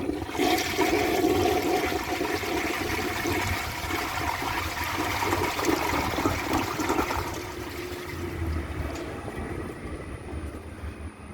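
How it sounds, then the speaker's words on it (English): A 1952 Briggs Prince toilet, fitted with a Briggs Ambassador handle and flapper, flushes in a strong, close rush of water that runs steadily for several seconds before tapering into a quieter refill trickle. "So, let's give it a flush."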